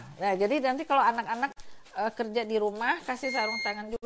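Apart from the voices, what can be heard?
digital kitchen scale beeping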